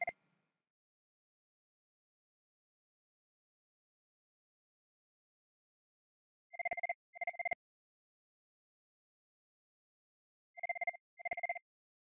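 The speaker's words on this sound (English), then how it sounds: "Here are calls coming into Chloe's phone from a Halifax line and a 10-digit local Montreal number" An office desk phone rings with incoming calls: two pairs of short electronic double-trill rings, clear and evenly spaced, separated by long silence.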